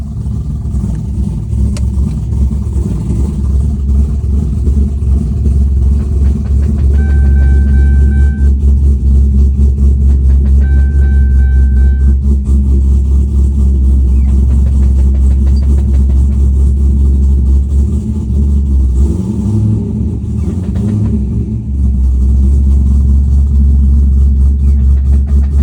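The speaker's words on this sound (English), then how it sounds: "I do have a video of the noise that the transmission was making, and it wasn't grabbing any gears" A C6 Corvette with a faulty transmission that won't grab gears drones with a loud, steady low engine rumble near idle, punctuated by brief tonal whine or beeps and a shifting clunk toward the end.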